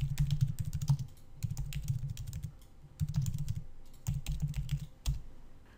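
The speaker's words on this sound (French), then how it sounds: "je peux directement écrire au clavier ce que je souhaite inscrire dans le contenu de ce nouveau sujet" Someone types on a computer keyboard in quick bursts of close, crisp keystrokes, with short pauses between each flurry and no talking.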